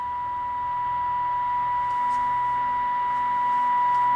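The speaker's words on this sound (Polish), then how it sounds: "W tej chwili mamy sygnał z prezydenta Johnego." Squelch-broken signal arriving on a President John CB radio transceiver during servicing, heard as a steady carrier hiss with a constant tone and faint bursts, alone with no talk.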